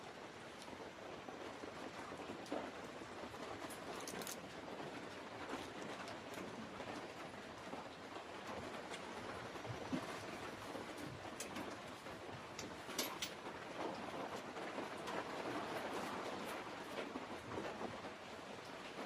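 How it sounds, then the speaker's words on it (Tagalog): Heavy rain pours steadily outside during a lunch break at a riflescope repair bench, a dense continuous roar with scattered sharper patters, constant in level and no voices. "Lakas na ng ulan mga idol sa labas."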